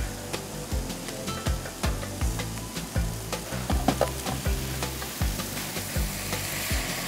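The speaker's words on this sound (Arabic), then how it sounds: "أضيف عليه الماء،" Broccoli frying in olive oil with onion and garlic sizzles and hisses steadily as water is poured in, with repeated soft stirring knocks against the pan throughout.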